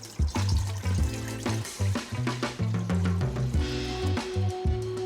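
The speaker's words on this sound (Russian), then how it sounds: "Я добавляю всю эту воду сюда." Water gushes into a metal pot for tom yum soup with rising gurgling tones as it fills, loud and close, with no talking.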